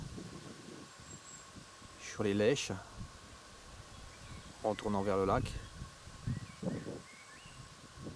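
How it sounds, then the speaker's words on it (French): Gusty wind buffets a flowering natural meadow, a low irregular rumble running throughout beneath someone speaking in French. "il y a trop de vent là aujourd'hui hein, pour filmer bien"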